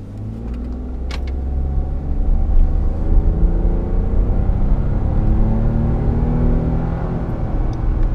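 A Ford F-150 with the 2.7-litre EcoBoost engine pulls away from a stop in second gear on a slight hill, a steady low engine rumble and drivetrain hum building in loudness and holding throughout, with no voices.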